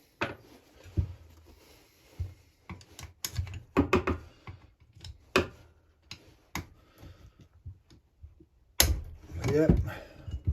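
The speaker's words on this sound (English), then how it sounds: "With a series of bolts you have to take out." Bolts come out of a Husqvarna 346XP chainsaw during a rebuild: a scattered run of small metallic ticks, clicks and tool taps, close and fairly quiet, with a brief voice toward the end.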